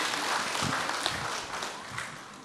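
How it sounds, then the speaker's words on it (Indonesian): Applause from a gathered congregation at an evening event, a brief steady wash of clapping heard at moderate distance, fairly soft overall. "Mungkin boleh tepuk tangannya para jamaah."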